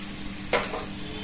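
Cumin and mustard seeds dropped into two spoons of hot oil in a heated kadhai give one short, bright sizzle burst that fades quickly against a quiet background.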